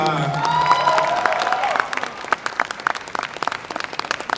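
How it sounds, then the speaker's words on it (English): A cosplay contest crowd at Visioncon 2023 cheers and whoops loudly for a She-Ra costume, then breaks into lively, crisp applause with individual claps standing out. "Give another big round of applause for She-Ra"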